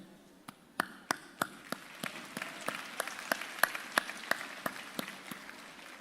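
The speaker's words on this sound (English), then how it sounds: "We applaud you." A commencement audience at Xavier University of Louisiana claps in a sparse, steady rhythm, each crisp clap standing out distinctly at moderate loudness over a quiet hall, with no talking.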